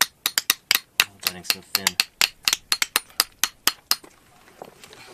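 Hammer strikes chip through hard rock at a Utah dinosaur dig, a rapid series of about twenty sharp metallic cracks in an irregular rhythm, close and loud, with brief talk partway through.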